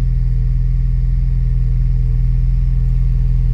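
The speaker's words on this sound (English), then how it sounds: "this is how it sounds like cold start, also with our new K&N air filter," A Ford Bronco fitted with an MBRP exhaust and K&N air filter idles on a cold start, giving a steady, loud low rumble with an even throb and no speech.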